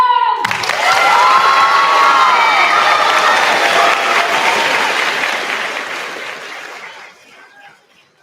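A school graduation ceremony crowd bursts into loud, sustained applause and cheering for Mr. Jones, with shouts mixed in, then slowly thins and fades out.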